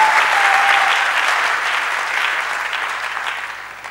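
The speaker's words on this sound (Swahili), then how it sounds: "Tumpikie Bwana makofi." A church congregation applauds, a dense wash of many hands clapping at once that holds steady and then slowly fades in volume over a few seconds.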